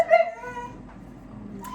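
A dog indoors gives a sharp high whimper followed by a brief yip or bark, close and fairly loud, then quiet room tone.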